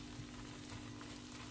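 French toast frying in a pan, a soft continuous sizzle with faint bubbling crackles, quiet and steady with no voices.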